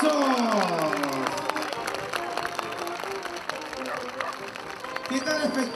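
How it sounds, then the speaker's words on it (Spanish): Crowd clapping in the stands at a comic bullfight afternoon in the ring, a steady wash of applause and cheering under a loud announcer's voice over a PA. "¡Así se palma, las palmas!"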